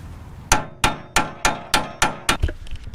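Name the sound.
pickle fork being hammered to separate a car's ball joint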